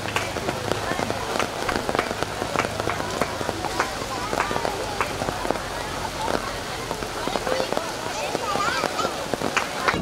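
Rain falls during an outdoor preschool activity day, a steady hiss and patter on surfaces with scattered sharper drips, while voices talk throughout.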